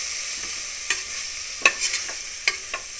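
Biryani powder and spices frying on low flame in a pan for egg biryani, a soft continuous sizzle broken by a few light scraping stirs of a spoon, close and without talk.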